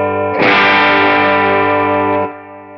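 An electric guitar played on the bridge pickup rings out through a Fender Blues Junior amplifier (Humboldt Hot Rod Edition) with overdrive, one sustained distorted chord struck sharply, holding loud and then cut off.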